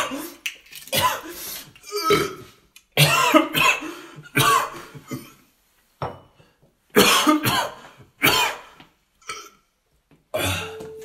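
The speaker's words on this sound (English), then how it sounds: "Cough, cough, cough, cough, cough, cough." Bursts of harsh coughing come in several separate groups with short pauses between them, close and loud. Some of the coughs sound throaty and strained.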